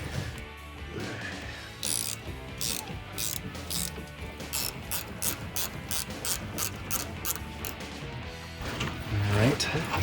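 A hand ratchet loosens a rear leaf spring bolt on a 2005-2021 Toyota Tacoma during an Old Man Emu Dakar heavy-load spring install, giving close, rapid, rhythmic clicking in bursts with faint mechanical knocks.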